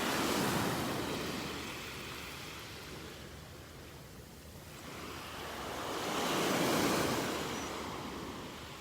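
Ocean surf on a beach in North Naples, Florida, washes in and out in broad swells, loud near the start, easing in the middle, and building again, with some wind buffeting the microphone.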